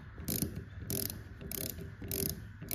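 A ratchet clicks in four quick bursts, close and fairly loud, as a cam phaser limiter is tightened into a Hemi engine.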